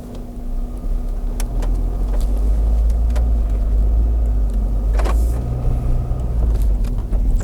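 A Mini Countryman with a diesel particulate filter warning pulls away on a test drive, its engine and road noise forming a steady low rumble from inside the cabin, with a few clicks and knocks over the top.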